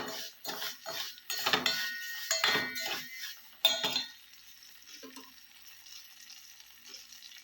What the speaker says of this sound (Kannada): ರವೆ ಒಂದ್ಸಲಿ ಹುರ್ಕೊಂಡಿದ್ದೀನಿ, ಆದರೆ ತುಪ್ಪದಲ್ಲಿ 1 ನಿಮಿಷ ಆ ಥರ ಬಾಡಿಸ್ಕೊಂಡ್ಬಿಡೋಣ